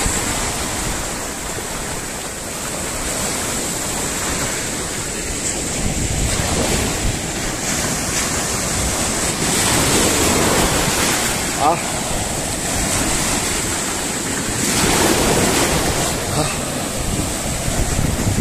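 Sea waves roll onto the shore at Constanța after a storm, a constant broad wash of surf with heavy wind buffeting the microphone throughout.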